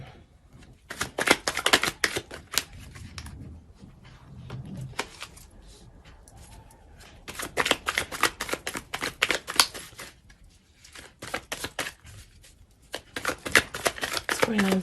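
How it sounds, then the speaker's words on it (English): Tarot cards shuffled by hand at close range, repeated bursts of crisp riffling and flapping that come in several clusters separated by short pauses, with a person talking in between. "I'm just going to shuffle one more time."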